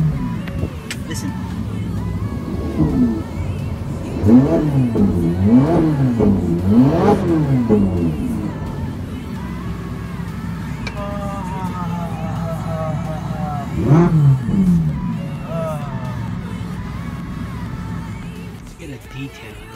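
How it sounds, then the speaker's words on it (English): Ferrari 458 Italia engine revs repeatedly, its pitch climbing and dropping in several quick sweeps, then a later pair of rises, loud and close, with talk over parts of it. "Let's hear the engine."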